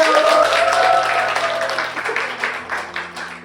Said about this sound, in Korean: 오늘 너무 감사의 박수 부탁드릴게요